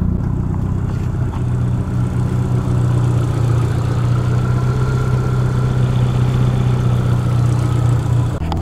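A VW Passat engine idles close by, a steady loud low rumble with a firm humming tone that holds evenly throughout, no speech on top.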